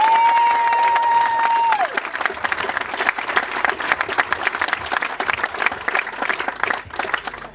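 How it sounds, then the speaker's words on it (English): Wedding guests applaud at a reception, a dense, loud wash of clapping that swells after a brief tone and continues steadily to the end. "Actually, I'd like to propose a round of applause for Jenny and JP"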